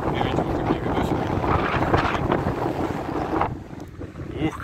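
Strong wind off the sea at Anapa buffets the microphone in a steady roar, with a hint of surf or water noise underneath and a brief lull near the end.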